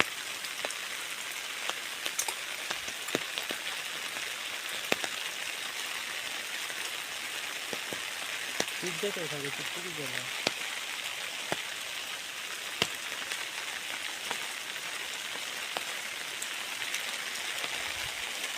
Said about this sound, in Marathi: पाऊस बघा पाऊस बघा खतरनाक पाऊस लागला